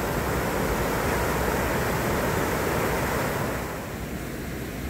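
Water rushes steadily over a waterfall in a river stream, a loud, continuous roar heard up close, easing slightly near the end.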